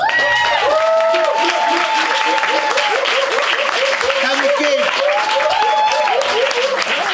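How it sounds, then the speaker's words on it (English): Sustained applause from an audience at a Lyrically Challenged night at Passing Clouds, with dense clapping running steadily throughout, mixed with voices cheering and whooping over it. "Can we give David Wahim a massive round of applause?"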